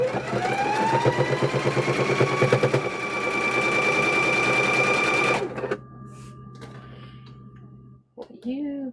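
A sewing machine runs a back stitch along a kitchen hand towel, a loud steady whirring drone for about five seconds, then stopping; faint handling sounds and brief speech follow.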